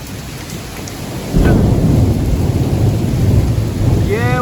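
A severe thunderstorm: steady heavy rain and hail hammering down, then a loud rolling crack of thunder that keeps rumbling close by, with no talk.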